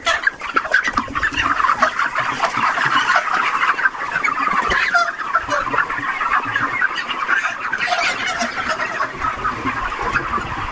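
Many chickens on a 6,000-bird poultry farm cluck and squawk continuously in a dense, busy chorus close to the microphone, with no pauses throughout.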